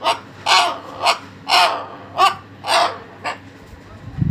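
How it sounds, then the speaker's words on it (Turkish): Pigeons in a residential neighbourhood give a run of about seven loud, close calls in a steady rhythm, each a short bright burst with quiet gaps between, and no talk over them. "Kuş onlar değil mi? Aa, güvercin onlar."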